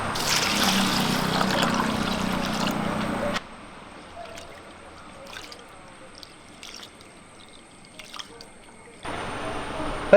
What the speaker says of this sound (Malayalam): ഇത് വെള്ളം ഒഴിച്ച് ഒന്ന് കുതിരാൻ വെക്കാം